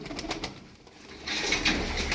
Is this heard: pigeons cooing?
yes